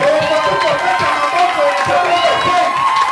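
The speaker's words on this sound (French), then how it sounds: "Est-ce que tu peux acclamer les acclamations de 2025?" A church congregation at a New Year dedication prayer service cheers and acclaims together, a dense, steady swell of many voices shouting and calling out throughout.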